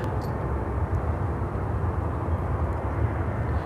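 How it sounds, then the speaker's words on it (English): A Lufthansa Airbus A350-900 rolls for takeoff bound for Munich, producing a constant broad jet roar at moderate distance with no talk. "Now rolling on Niner Center Lufthansa 437, taking off to Munich on the A350-900."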